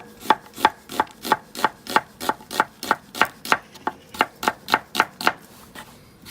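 A knife slicing onions on a board, about twenty crisp evenly spaced chops in a brisk steady rhythm, close and clear with nothing else underneath.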